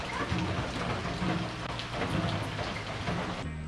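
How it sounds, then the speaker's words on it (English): Steady, heavy rain falls in Port Antonio, Jamaica, with a dense, close patter on surfaces and low rumbling underneath, continuous throughout before a brief change at the very end. "It's raining."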